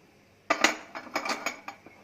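A cooking pan handled on a kitchen counter while preparing a curd curry, a quick series of sharp metallic clinks and knocks, fairly close and moderately loud, with no voices.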